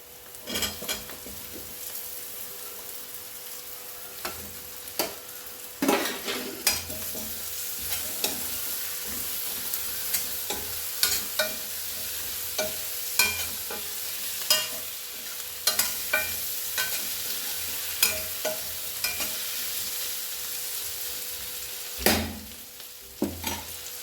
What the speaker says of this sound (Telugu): ఇప్పుడు ఉల్లిపాయలన్నీ కొంచెం వేగినాయి ఇప్పుడు ఆలుగడ్డలు వేసేసుకుంటున్నాను